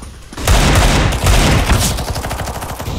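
Video game gunfire, a loud close burst of rapid automatic shots that rattles on continuously, dense and overlapping at first, then thinning into distinct quick reports.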